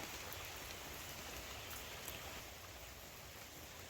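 Light rain drips and patters steadily across a mountain garden, a continuous soft hiss of drops heard up close, easing slightly toward the end, with no one speaking.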